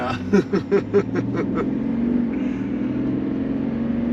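Chevy Z71 pickup truck weighing about 8,000 pounds accelerating, its engine building into a steady, loud drone after a few short bursts of talk near the start.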